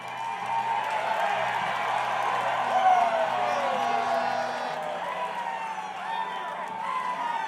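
Large outdoor crowd at a Carolina Hurricanes Stanley Cup parade rally, a steady, dense roar of cheering and whooping with scattered clapping that holds throughout at a constant level.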